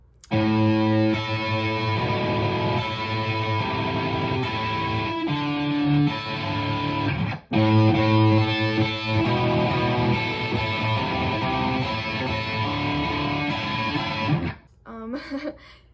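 A distorted electric guitar plays sustained high notes with wavering vibrato over chugging chords, loud and continuous with a brief pause midway.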